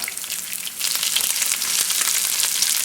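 Mustard seeds and onions fry in hot oil, making a loud, dense, continuous sizzle with fine crackling pops, close and steady throughout with no speech.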